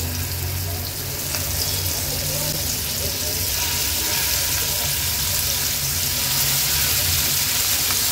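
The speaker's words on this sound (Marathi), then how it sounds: "आता एक एक करून ही तारली आपण तेलावर सोडणार आहोत" Uncoated sardines sizzle in hot oil in a pan over a high flame, giving off a loud, steady hiss that swells slightly as more fish go in.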